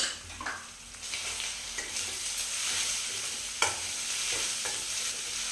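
Salted bottle gourd mixture with green chili paste fries in a pan, giving a continuous close sizzle while a spoon stirs and scrapes through it with a few louder knocks against the metal.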